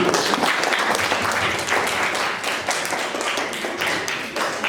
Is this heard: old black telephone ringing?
no